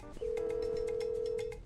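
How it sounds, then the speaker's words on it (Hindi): A phone ringback tone while a call is placed, a single steady electronic tone lasting over a second, heard clearly against faint background sounds. "रुको भाई अनिल को फोन करके दिखाता हूँ।"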